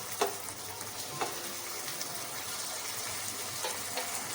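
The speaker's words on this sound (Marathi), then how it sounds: "आता ह्याला आधी आपण परतून घेऊया." Banana flower vegetable sautéing in a pan, giving a steady, moderately loud frying sizzle with a few sharp stir clinks and scrapes of the spoon against the pan.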